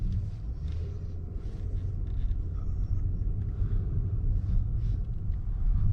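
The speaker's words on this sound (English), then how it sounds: "So we will be driving off now with the E8 cylinder beauty here." A Mercedes-Benz Maybach with a V8 engine pulls away, a steady low rumble of engine and road noise with faint interior sounds, no talking.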